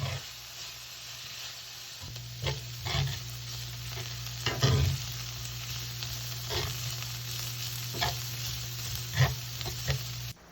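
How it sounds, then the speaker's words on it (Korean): Chicken thigh pieces stir-fry in a pan, giving a steady low sizzle with periodic scraping and stirring strokes of a spatula, close and moderately quiet, with no one talking. "색이 변해질 때까지 볶아주시고요"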